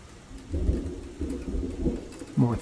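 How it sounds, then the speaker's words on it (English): Thunder rolls in Kerbal Space Program, low rumbling swells building and fading over rain-like noise, moderately loud with a sharper closing crack and no speech. "More thunder."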